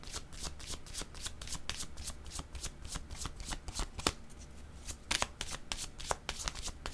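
A deck of tarot cards is shuffled repeatedly at close range, crisp riffling snaps falling in a quick, fairly even rhythm that runs on for several seconds with no voice over it.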